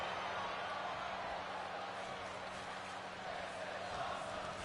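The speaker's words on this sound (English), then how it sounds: "And the crowd getting into it now." Steady crowd roar from a WWE 2K25 wrestling game during a steel cage match, a dense continuous wash of cheering that stays level throughout.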